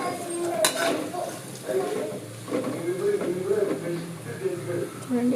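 Pakoras frying in hot oil in a home kitchen, a steady soft sizzle with occasional stirring and utensil clinks running under continuous talking.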